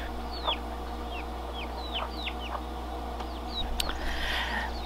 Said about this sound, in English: So Miss Lady is a silver lace Wyandotte